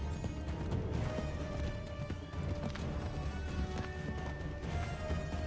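Horses gallop in the Assassin's Creed 3 video game with a steady, busy clatter of hooves, loud and continuous over game background sound.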